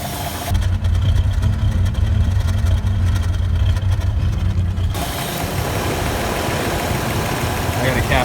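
A Toyota FJ60 engine fitted with a new distributor runs steadily at idle close by, a low rumble throughout with a change in character partway through; the timing may be off.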